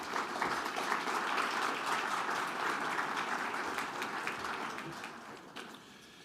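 Quiet, distant audience applause at a public service award ceremony for honorees, a steady patter of clapping that slowly thins out over six seconds.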